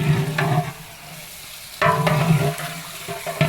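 Meat frying in a pan with ground garam masala, cumin, chili paste and ginger, stirred in several scraping bursts over a steady sizzle, close by and with no talking.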